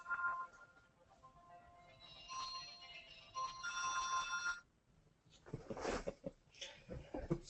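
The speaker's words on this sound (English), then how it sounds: "So, hang on, my cell phone." A cell phone ringtone plays a repeating melodic tone pattern in bursts, moderately close and fairly quiet, with a pause and then rustling handling noise afterward.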